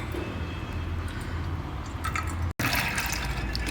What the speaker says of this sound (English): Now we'll drain out the excess water from it.